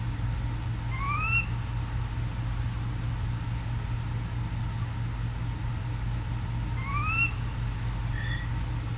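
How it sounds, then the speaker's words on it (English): A Sora rail calls at night in a marsh, two short bursts of rising, whistled notes a few seconds apart, fairly faint over a steady low background hum. "Here is Sora. It's a really good call,"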